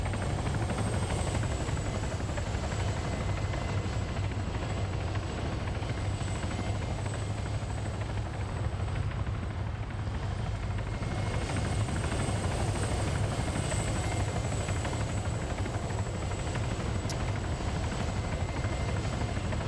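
A military video game helicopter drones steadily and loud throughout, its rotor and engine noise constant and close with no talk over it.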